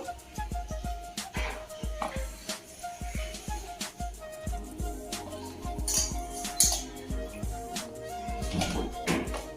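Spoon or ladle clattering against a metal pot or bowl while Guntur mango pickle pieces are tossed together, a busy run of close, uneven clinks and scrapes with faint talk now and then.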